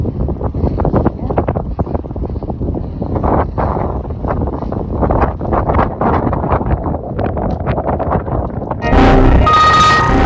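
Gusty wind by a snowy lake buffets the microphone in a rough, continuous rumble, swelling into a louder blast near the end.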